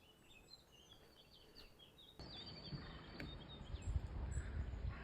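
Wild birds singing in Ventnor Park in spring, including thrushes, blackbirds and a blackcap, with faint thin chirps and song phrases over a soft outdoor background that grows louder partway through.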